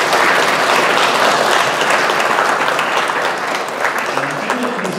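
A church congregation applauds during a Mother's Day and graduates worship service. The clapping is close, loud and continuous, a thick crowd sound with faint voices mixed in underneath.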